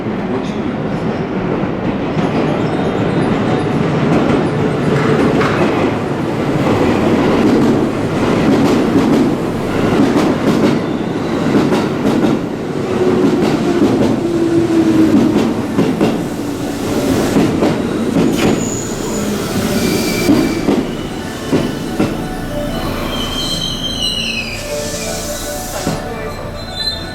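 A JR West Yamatoji Line train pulls into a platform at Tennoji Station, with loud rolling wheel clatter, rumble and brief squeals of wheels and brakes sustained throughout, and a station announcement faintly heard over the noise.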